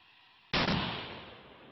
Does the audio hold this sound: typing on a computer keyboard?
no